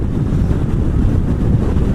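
Heavy, slightly wet wind buffets the microphone while riding a Yamaha MT-07 (FZ-07) motorcycle, a loud, rumbling low roar that stays constant throughout, with no voices.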